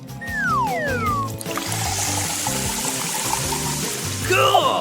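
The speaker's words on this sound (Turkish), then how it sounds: "Tatlı kolayı damlalık poşetlerine dökeceğim." Sweet cola being poured into small dropper bags: a steady, splashy liquid stream begins partway through and continues under upbeat background music with quick whistling sweeps.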